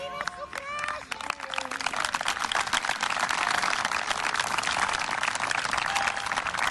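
A crowd applauds on a football field at a memorial match, dense sustained clapping that swells after a brief opening of voices and continues loudly to the end.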